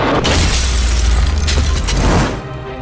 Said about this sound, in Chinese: 灯泡烧到了一定温度，再加上它的表面粘着口香糖，灯泡爆炸了